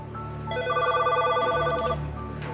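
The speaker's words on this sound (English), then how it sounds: "In the direct supervision pod, Officer Freeman gets a phone call." A telephone in a jail's direct supervision pod rings with a warbling electronic trill lasting over a second, heard over a low background hum.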